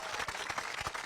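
A crowd outdoors on the Capitol Hill steps applauds Cory Booker and Hakeem Jeffries during a sit-in, a faint, distant spatter of clapping with uneven swells and no voices.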